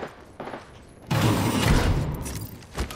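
Video game gunfire in a dense burst of shots, loud and close, starting abruptly partway in and continuing with a sustained rattling roar before tapering off.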